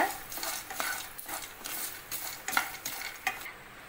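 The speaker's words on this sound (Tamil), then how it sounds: "இப்போ இது கூட ஒரு கைப்பிடி வேர்க்கடலையை சேர்த்துக்கிறேன். அதையும் நல்லா வறுத்துக்கோங்க." Peanuts and curry leaves roasting in a pan for spicy puffed rice, with a spatula scraping and stirring in repeated strokes over a soft dry sizzle, close and fairly quiet.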